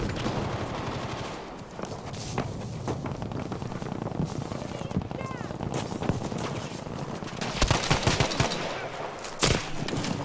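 Gunfire rattles through a Battlefield V Pacific conquest match, dense bursts of automatic fire and sharp single shots crackling throughout, with sporadic talk mixed into the loud battle.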